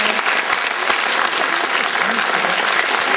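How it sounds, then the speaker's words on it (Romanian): A theatre audience claps loudly and continuously, a dense wash of applause filling the whole stretch. "Aplauze încă o dată"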